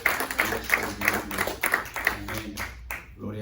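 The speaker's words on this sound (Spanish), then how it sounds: "Denle un fuerte aplauso al Señor por los que visitan por primera vez" A church congregation claps steadily and rhythmically at moderate distance, sustained applause that fades toward the end, with no speech over it.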